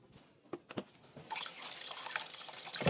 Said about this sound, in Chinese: 洗手